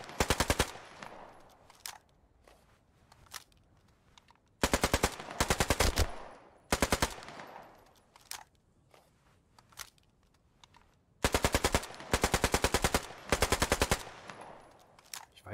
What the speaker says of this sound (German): was passiert denn, wenn ich so ganz viele Magazine halb leer schieße?